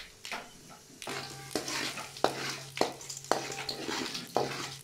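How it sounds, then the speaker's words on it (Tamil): Mustard seeds and urad dal splutter in hot oil as a tempering for a poori side dish, with sharp, irregular pops and crackles over a steady sizzle, close and fairly loud, no voices. "இப்போ வந்து கடுகு உளுந்து பருப்பு பொரிஞ்சிருச்சு."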